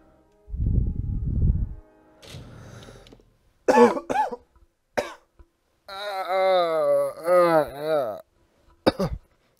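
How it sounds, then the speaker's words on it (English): Several dry coughs and throat-clearing sounds, close and loud, early on, followed by expressive vocal sounds and speech-like bursts. "the driest cough, but the somehow bellows out of you when you cough?"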